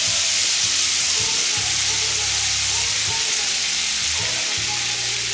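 Vegan scallops sizzle steadily in a hot pan with lemon juice poured over them: a loud, continuous frying hiss with small pops and crackles throughout.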